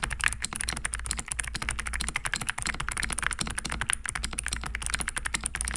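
Fast, continuous typing on a newly built mechanical keyboard, a dense stream of crisp clacking keystrokes at close range with no pauses and no voices.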